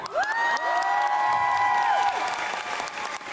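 Japan Expo 2009 audience at its tenth-anniversary cosplay event bursts into loud, sustained applause and cheering, with whoops and a few bright tones ringing over the crowd noise.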